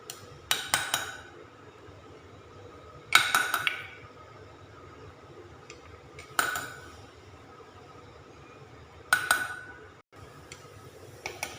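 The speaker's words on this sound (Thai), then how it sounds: "เราใส่เห็ดกระด้างเราก็สิตำเนาะต ให้มันเนี่ยดน" Hard mushrooms being pounded in a mortar for Thai mushroom soup: four separate bursts of sharp clacking thuds, each a quick cluster of knocks, with quiet pauses between.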